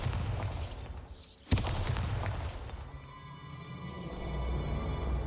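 A Bombarda blasting spell goes off in Hogwarts Legacy: one sharp, loud boom cracks out near the middle, with a rumbling game soundscape before and after it.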